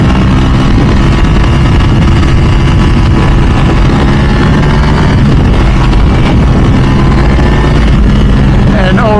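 A Ducati motorcycle engine, either a 998S or a V4 SP2, drones steadily while being ridden with the throttle held, a loud continuous rumble that carries through the whole stretch with no voices.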